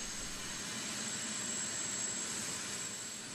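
A steady, continuous helicopter engine drone with a high whine on top, constant in loudness and fairly distant.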